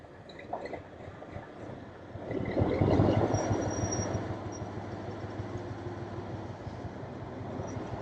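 A train rumbles past at moderate distance, swelling to a broad, loud roar around the middle and then settling into a steady rolling drone, with faint high squeals on top.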